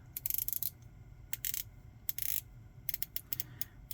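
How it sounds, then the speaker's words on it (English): A ceramic 120-click unidirectional bezel on a stainless steel chronograph watch is turned in short bursts of rapid, fine ratcheting clicks with brief pauses between them, close and crisp. "So 120 click, unidirectional."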